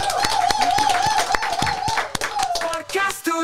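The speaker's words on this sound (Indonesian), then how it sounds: "Berikan tepuk tangan sekali lagi untuk Brilian Aldama." Small studio audience on a sports podcast clapping in sharp, distinct hand claps, close and fairly loud, with a voice and background music running underneath.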